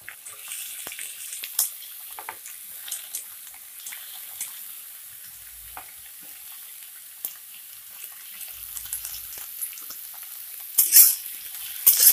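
Chopped onion and capsicum sizzle in a pan, a soft steady hiss with scattered stirring scrapes and clinks, louder metallic clatter near the end.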